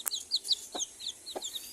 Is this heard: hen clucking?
yes